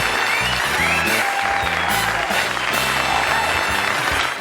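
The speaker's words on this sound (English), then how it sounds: "I'm humbled by that applause." Studio audience applause on a late-night television talk show, a steady wash of clapping mixed with rhythmic band music and a few whoops, loud and continuous.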